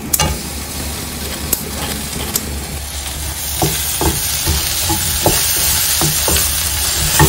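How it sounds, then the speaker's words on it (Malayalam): Masala and tomato sauté in a pan, a loud, continuous sizzle broken by brisk, rhythmic spoon strokes and scrapes against the metal. The stirring grows busier in the second half. Close-up, with no voices. "നന്നായിട്ട് മിക്സ് ചെയ്തിട്ട് പച്ചമസാലേൻ്റെ മണമൊക്കെ പോകുന്നത് വരെ നമുക്കൊന്ന് വഴറ്റിയെടുക്കാം"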